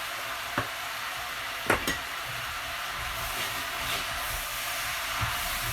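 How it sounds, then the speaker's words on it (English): Sausage and fennel seeds stirred in a frying pan give a steady faint sizzle, with a few brief scrapes and clinks of the utensil against the pan. "Stir all that around."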